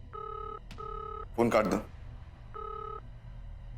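A telephone rings during a late-night call, short repeated electronic ring bursts with a brief spoken line between them, quiet and indoors.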